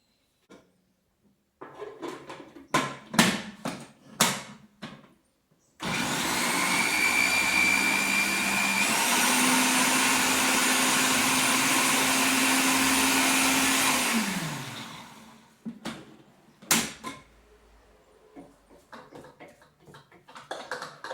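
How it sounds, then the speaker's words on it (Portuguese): A food processor whirs loudly and continuously for about nine seconds, blending a crab cake mixture with olive oil and chives, then winds down; brief clatter and handling noises come before and after. "E agora a gente vai bater aqui no processador."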